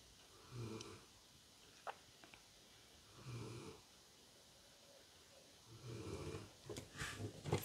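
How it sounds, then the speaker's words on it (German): A dog snoring in the background of an indoor room, with three or four slow, soft snoring breaths at regular intervals, faint and distant, plus a few small snorts and rustles between them. "Mein Hund schnarcht im Hintergrund."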